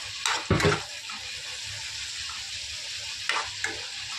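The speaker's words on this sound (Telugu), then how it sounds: "ఉల్లిపాయ పచ్చిమిరకాయ వేసిన తర్వాత మనం ఇలా తిప్పుకుందాం." Onions and green chilies frying in hot oil, a constant bright sizzle with several close stirring scrapes and clatters of the spoon in the pan.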